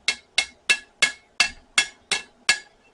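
Eight sharp metallic hammer blows ring out at a steady pace as a Viking-style blacksmith's knife is forged on a small anvil, each strike bright and close with a short decay, no voices.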